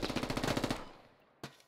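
A rapid burst of about nine automatic shots fires in the Squad military game with Canadian Armed Forces, followed by one more lone shot after a short pause, fairly close and punchy.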